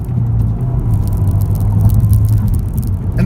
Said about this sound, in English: look at how that engine responds